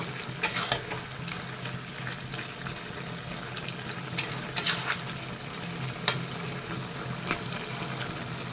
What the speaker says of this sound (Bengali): তো আবারও ভালো করে নাড়িয়ে মিশিয়ে নেব।